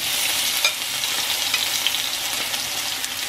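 Garlic and potatoes fry in a pan with a loud, close, continuous sizzle and a few crackling pops, and no voices.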